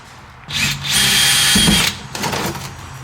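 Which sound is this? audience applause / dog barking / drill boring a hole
drill boring a hole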